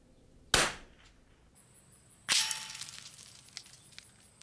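A .22LR rifle fires a trick shot through a rifle barrel outdoors, giving two sharp cracks about two seconds apart, the second followed by a ringing, decaying tail.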